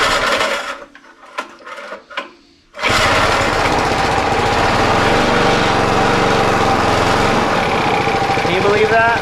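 Cold engine of a tiny old barn-found steam roller, choked and just off idle, with a few pull-start tugs and clatters before it fires and runs on as a loud, steady, rapid chugging drone.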